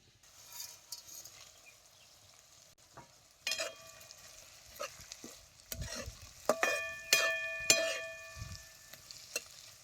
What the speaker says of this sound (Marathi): आता खडा मसाला आणि मिरच्या बी तेलात चांगलं भाजून घ्यायचे.